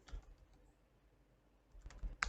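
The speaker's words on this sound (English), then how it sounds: "We can just type netstat" A few quiet keystrokes on a computer keyboard as a terminal command is entered during a penetration testing demo, with a brief cluster of taps at the start and a louder flurry near the end.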